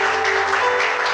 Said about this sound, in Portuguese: Você pode dar uma salva de palmas para Jesus Cristo?